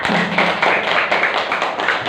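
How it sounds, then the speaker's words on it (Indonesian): Schoolchildren in a madrasah classroom applaud a presenting group, a quick patterned run of close, crisp hand claps repeating in an even rhythm, with a brief low hum at the start. "tepuk tangan buat kelompok 4"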